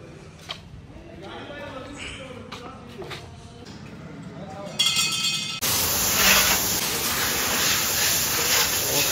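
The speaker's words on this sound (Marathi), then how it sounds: "वॉशिंग चाललेली आहे" A new motorbike is washed with a water spray, a loud steady hiss that starts abruptly and runs continuously, following a stretch of people talking with clinking sounds.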